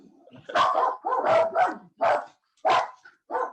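Dog barking loudly in a public meeting hall during a city regeneration meeting, six sharp barks spaced irregularly close to the microphone, with no talk over them.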